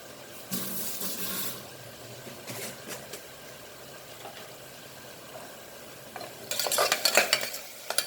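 Food frying and being stirred in an open pan while cooking a dal and pasta dish, with bursts of sizzling scrapes at the start and louder stirring near the end over a steady low background.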